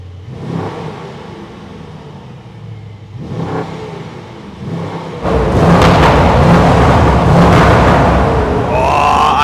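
A Mercedes S-Class engine rumbles nearby, swelling briefly twice before surging into a loud, sustained rev that holds through the second half, with no talk over it.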